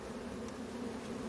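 Honeybees buzz steadily around a beehive while the colony begins storing nectar, a dense continuous drone close by that stays even throughout, with no talking.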